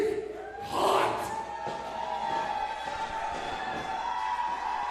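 A wrestling crowd at a Pittsburgh show cheers for the wrestler the Bearcat, a sustained roar with a loud swell near the start, then a steady hum of voices and a ringing tone beneath.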